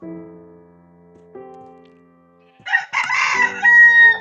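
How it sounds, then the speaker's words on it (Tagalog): A Minecraft rooster crows loudly after a stretch of low tonal hum, a single drawn-out call near the end. "Ito, titilaok na ng manok."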